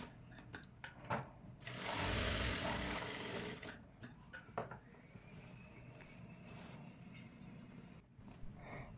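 A sewing machine runs a steady burst of stitching along the side seam of a child's loose-fitting jumpsuit, loud for about two seconds before stopping, followed by quieter cloth handling and scattered clicks.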